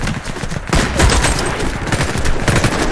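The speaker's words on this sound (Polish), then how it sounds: "Odgłosy broni są nawet fajne. Słychać, że to jest ciężki karabin." An H&K MG4 heavy machine gun fires in Warface, a loud, dense burst of rapid automatic shots with a brief pause near the start before the fire resumes and rattles on continuously.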